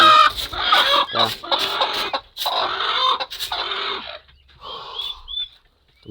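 Chickens on a small chick farm cluck in bursts, several birds close by with squawks and short calls, the noise easing to quieter clucks and a thin cheep near the end.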